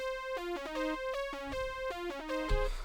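Zonology Soul Lead 1 synth lead played dry with no effects, a bright, clean melodic line of stepping notes over a low bass hum, with a soft thump near the end.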